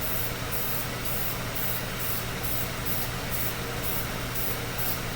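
Aerosol spray paint laying even coats on parts from a crashed Honda Grom motorcycle: a loud, steady hiss throughout, pulsing in regular short bursts as the can sweeps back and forth.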